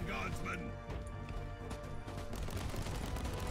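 Turret gunfire in the video game Warhammer 40k: Inquisitor - Martyr, dense rapid bursts and crashing impacts over a thick layer of game music and effects. A voice talks over it.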